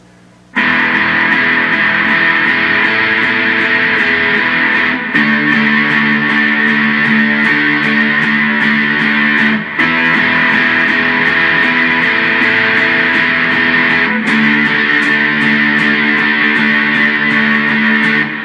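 Distorted electric guitar strums sustained chords, ringing loud and steady, changing voicing every few seconds with brief breaks between phrases, alone with no voices.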